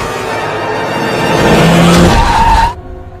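A loud car engine roars and its tires screech in a rising skid in the film Megan (2023), then the sound cuts off abruptly into a quieter tone.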